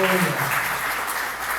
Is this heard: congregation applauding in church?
yes